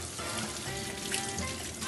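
Warm water runs from a kitchen sink tap over hands being washed, a steady soft splashing hiss at low level with no one speaking.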